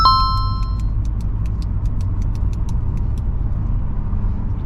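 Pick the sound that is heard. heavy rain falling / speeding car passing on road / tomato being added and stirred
speeding car passing on road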